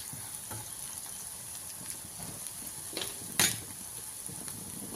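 Dry spices roasting in hot oil for a Khandeshi-style onion curry, a soft steady sizzle with a few faint spoon scrapes and one brief louder crackle partway through, no voices.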